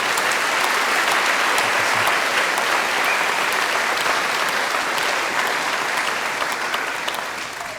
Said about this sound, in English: Can we please give Mario Castillo a round of applause